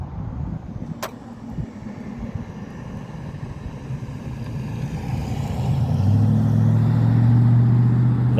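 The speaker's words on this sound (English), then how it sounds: "another vehicle coming through" A vehicle rolls along a park road, its low engine rumble swelling steadily as it draws nearer and grows loud toward the end, with no talk over it.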